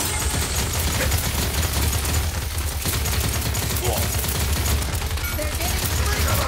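Rapid bursts of gunfire in the Paladins video game play loud and steady over a heavy low rumble, with a person talking over the shooting.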